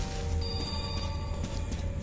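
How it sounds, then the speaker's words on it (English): A telephone rings inside a video game, a steady electronic ring with sustained tones that holds fairly loud for about two seconds, with no talk over it. "Phone's ringing."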